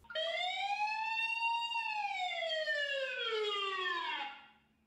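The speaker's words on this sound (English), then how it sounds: "when the camera detects motion, a loud siren will go off" A security camera's motion-triggered alarm siren sounds: one loud electronic wail that rises, then sweeps down over a few seconds before cutting off, with a faint steady hum underneath.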